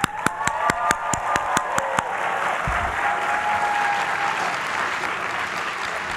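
Sustained applause from a graduation ceremony audience at an engineering school commencement, a dense wash of many hands clapping with a few sharper claps near the start, steady and loud throughout.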